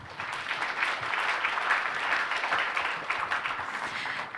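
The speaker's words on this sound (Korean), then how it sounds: "감사의 박수 좀 주시면 좋을 것 같습니다" Steady, dense applause from a forum audience in Busan thanking a panel of company representatives, a continuous wash of clapping at moderate volume with no speech over it.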